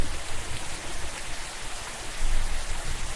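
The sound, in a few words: rain falling, from a video game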